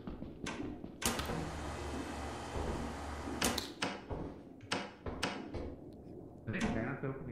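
In the video game Lethal Company, doors open with sharp clicks and knocks that come in irregular bursts over a noisy, busy background.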